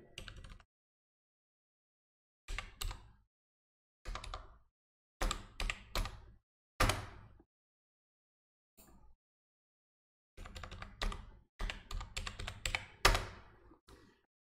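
Close, crisp typing on a computer keyboard in short irregular bursts of keystrokes with silent pauses between, alone with no talk.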